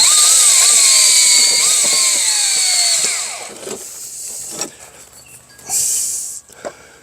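A power drill driving a screw whines loudly at a steady high pitch for a few seconds, then winds down as the bit stalls while the chuck keeps spinning, followed by a couple of short bursts and clicks.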